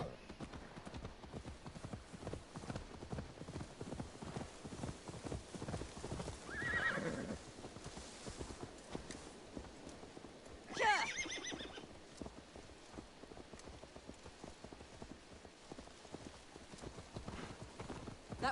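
Horse hooves clip-clop in a steady walking rhythm in Assassin's Creed Valhalla, with a brief whinny around the middle and a louder snort or neigh shortly after, set against quiet game ambience.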